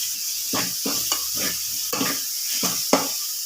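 Masala roasts in a hot pan for a Maharashtrian amti and potato bhaji, soft sizzling under a series of scraping spoon strokes, about seven distinct stirs at an uneven pace, close and clear with no talking.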